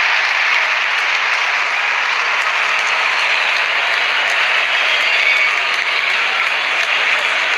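A stadium crowd in the cricket video game Real Cricket cheers and applauds in a dense, steady roar. It holds at an even level throughout with no voices standing out.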